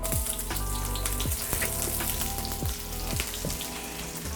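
Scallions hitting hot oil in a pan for SPAM fried rice, a loud, steady, close sizzle with crackling pops and a few brief clunks of the pan throughout.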